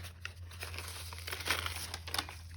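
A small paper envelope crinkles and rustles as it is opened during a craft-supply unboxing, close and fairly quiet, with a low steady hum beneath and no talking.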